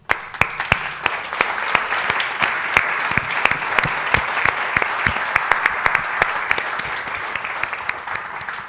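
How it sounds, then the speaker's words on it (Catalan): Audience applause at the closing of a surgical forum, with sustained clapping and distinct sharp individual claps standing out throughout, steady and close. "I abans de marxar us voldria demanar 2 aplaudiments"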